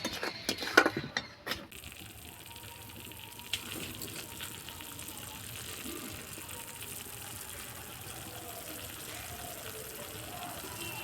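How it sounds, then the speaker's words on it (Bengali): A bowl of water is poured into a spiced yogurt paneer curry, a few sharp splashing bursts at first, then a quieter steady hiss and bubbling as the gravy settles. "এবার এক বাটি জল দিয়ে দেবো মশলার জল"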